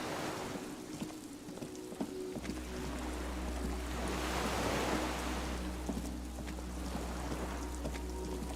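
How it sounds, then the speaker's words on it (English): Water laps against a dock in the video game Disco Elysium, where a skiff sways on the waves; a soft continuous wash rides over a low steady hum, with no voices. "The skiff is swaying on the waves by the dock."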